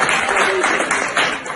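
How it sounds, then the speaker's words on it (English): Audience applause at a reading conference, a dense, steady wash of many hands clapping across the hall, moderately loud, with a slight dip then a swell near the end. "They deserve a bigger applause."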